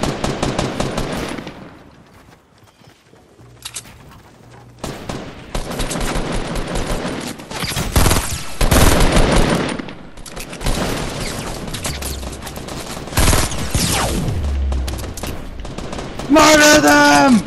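Rapid automatic gunfire bursts in the video game Fortnite, loud and repeated in clusters with booms and game effects, while players talk excitedly over the action.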